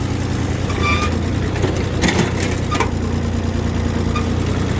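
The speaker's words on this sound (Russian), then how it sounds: "Трехцилиндровый дизельный двигатель." Three-cylinder diesel engine of a Mitsubishi Kumiai ST1540 four-wheel-drive Japanese mini tractor idling close by, a steady low throbbing drone with a constant hum, running alone without speech throughout.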